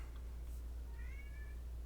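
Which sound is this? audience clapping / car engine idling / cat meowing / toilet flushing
cat meowing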